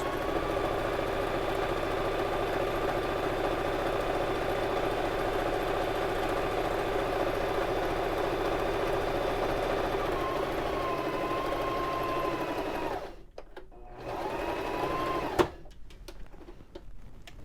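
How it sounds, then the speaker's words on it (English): A Baby Lock Zest sewing machine runs a long steady stitching line along a child's apron edge, humming and clattering continuously up close, then pauses briefly and resumes with a few short bursts and clicks. "I'm going to back stitch and come about 1/4 of an inch away and pivot"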